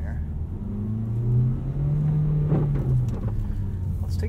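A 2018 Mazda CX-3 powers out of a corner on winter roads, its engine note rising in a steady low hum that stays loud and close throughout, with a faint voice talking underneath.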